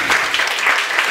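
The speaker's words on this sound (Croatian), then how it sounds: "Sad ne treba dug aplauz, može kratki samo prije" Brief burst of audience applause at a science-fiction novel event, steady dense clapping for about a second with no talk over it.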